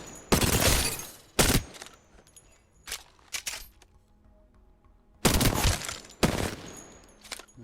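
A submachine gun in Apex Legends fires short automatic bursts: a loud rattling volley, a second quick burst, scattered clinks and faint game noise in a lull, then two more rapid bursts near the end.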